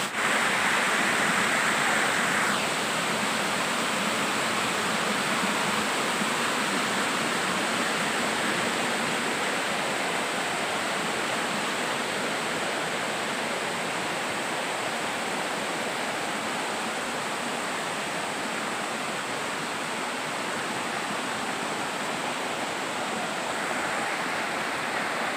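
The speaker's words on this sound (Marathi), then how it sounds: "तुम्हाला धबधब्याचा जो आवाज आहे तो नक्कीच ऐकू येत असेल." Dalki waterfall at Godri ghat roars continuously and loudly, a dense unbroken rush of falling water heard up close with no voices.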